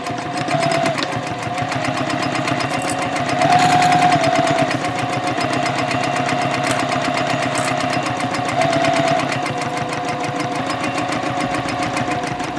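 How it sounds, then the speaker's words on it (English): A sewing machine stitches the side seam of a tote bag, running steadily and closely for the whole stretch with a continuous mechanical hum and rapid needle rhythm, alone without voices. "now I'm going to sew up the opposite side"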